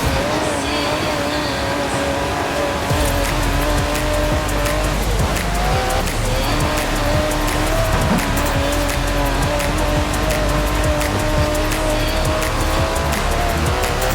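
An Aston Martin DB11 with a 5.2-litre twin-turbo V12 in Forza Horizon 4 drones loudly and steadily at speed, its engine note holding and shifting pitch, with tire noise underneath throughout.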